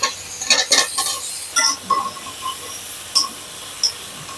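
Drumsticks and potatoes stirred into sizzling fried spice paste in a pan: a series of scraping, clinking spoon strokes over a soft continuous fry, close and moderately loud, with no talk.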